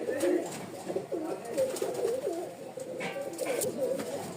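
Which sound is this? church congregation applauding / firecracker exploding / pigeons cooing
pigeons cooing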